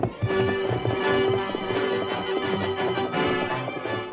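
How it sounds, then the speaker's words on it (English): A horse gallops hard across open plains, its hooves thundering in a fast, steady clip-clop rhythm, loud and close, with a sustained tone and music-like backing in a radio drama. "No hoofs had ever beat the plains like those thundering hoofs of the great horse Silver"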